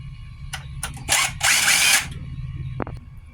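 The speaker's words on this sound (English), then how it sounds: "the drive is held onto the motor by these 3 screws. I'm going to remove these 3 screws" Power drill removing screws from the drive of a variable speed pool pump, short whirring bursts including a longer sustained whine, with small mechanical clicks between, close and loud.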